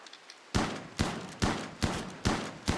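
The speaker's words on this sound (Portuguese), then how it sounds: "agora que eu já dei 15 mil tiros nela" Five heavy gunshots fired at steady intervals of about half a second in the video game RimWorld, each a sharp loud crack with a short decaying tail, no voices.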